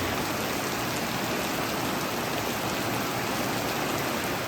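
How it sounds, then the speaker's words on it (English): Heavy rain pouring steadily in Costa Rica, a dense, even hiss of water falling on surfaces, close and constant with no pauses. "It also absolutely was just pouring this day."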